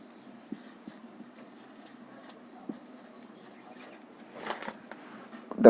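A pen scratches faintly on paper while maths problems are worked out, with soft intermittent strokes and a louder scribble near the end, close and quiet.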